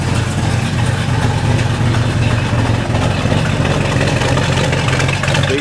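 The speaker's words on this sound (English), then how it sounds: "Let's go out back and hear the sweet rumble of this" A 1970 Dodge Challenger R/T convertible with its original matching engine and quad-tip exhaust idles nearby, a steady loud low rumble holding even throughout.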